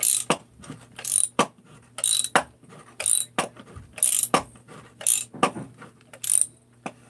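A ratcheting hand tool is cranked down until it stops: close, loud bursts of rapid pawl clicking, about ten separate runs with short pauses between them.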